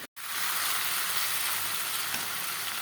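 Meat fries in oil in a pan, a dense, steady hiss and crackle that holds close and loud after a brief silent start, with no talk over it.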